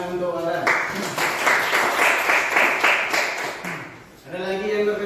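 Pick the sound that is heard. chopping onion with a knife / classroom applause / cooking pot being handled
classroom applause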